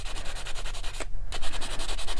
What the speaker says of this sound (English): I'm taking off some of the darker finish on the metal so that my word will show up a little more, and also that texture.